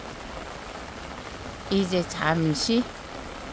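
Steady rain keeps falling during a downpour that is easing off, a soft even hiss running throughout the clip while a person speaks briefly over it near the end.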